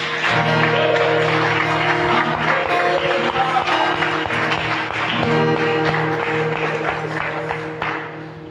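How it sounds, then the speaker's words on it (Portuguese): A church congregation at an evening worship service applauds, a loud, sustained wash of many hands clapping over a droning, tonal background that eases off slightly toward the end. "Aplauda o Senhor Jesus."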